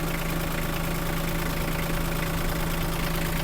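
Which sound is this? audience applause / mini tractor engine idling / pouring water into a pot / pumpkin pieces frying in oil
mini tractor engine idling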